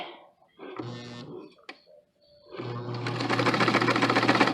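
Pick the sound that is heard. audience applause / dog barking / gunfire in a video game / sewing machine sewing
sewing machine sewing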